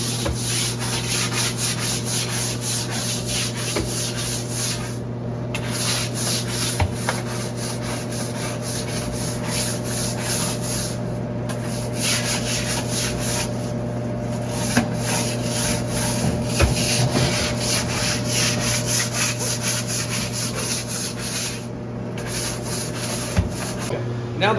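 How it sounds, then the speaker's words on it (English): A deck brush scrubs a soapy floor while cleaning a reach-in refrigerator, giving a steady, continuous rubbing and scraping sound with even strokes throughout, close by and alone over a low background hum. "I'm going to take my deck brush, like so"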